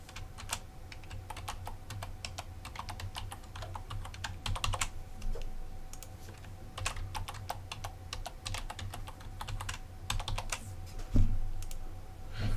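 Someone types a password on a computer keyboard, a close run of quick, uneven key clicks with short pauses and a few heavier strokes near the end.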